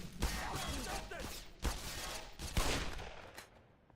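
A revolver fires in Black Mesa with several loud shots spaced about a second apart, and each shot is followed by a lingering roar of reverb and echo.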